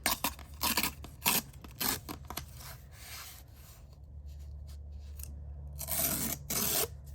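Paper torn into thinner strips for a Hobonichi planner collage, a series of close, sharp rips and rustles in bursts, with a quieter scratchy stretch in the middle.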